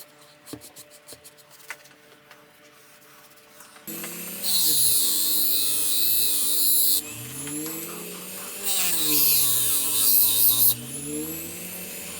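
A homemade leather honing wheel machine runs with a steady motorized hum and whine, with two louder stretches of high-pitched grinding as a blade is pressed against the paste-loaded leather wheel, after quieter mechanical clicking at the start.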